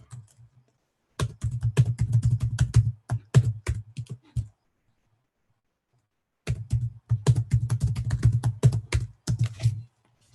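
Rapid clicking keystrokes on a computer keyboard as a password is typed, two bursts of quick uneven taps separated by a pause of silence, close and fairly quiet.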